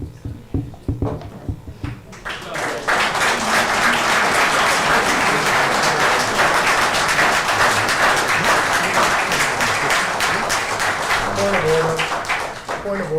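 Audience at a city council meeting bursting into sustained, loud applause after a brief moment of talk, a dense wash of clapping that holds for about ten seconds before thinning.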